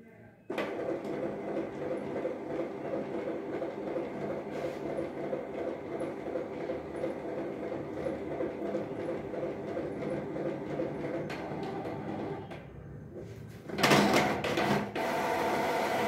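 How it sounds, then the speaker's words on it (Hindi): A Canon G2010 inkjet printer feeds and prints a page, giving a steady mechanical whir with rhythmic clicking that runs continuously, dips briefly near the end, then ends with a louder burst of paper ejecting. "देख सकते हैं एक पेपर प्रिंट आउट हुआ।"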